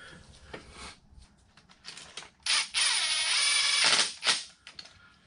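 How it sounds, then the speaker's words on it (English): Handwheel on the saddle feed of a Kearney & Trecker 2HL milling machine being turned, giving soft clicking and ratcheting mechanical sounds with a louder grinding stretch midway, close and fairly quiet. "now I should be able to turn the saddle feed and close this gap."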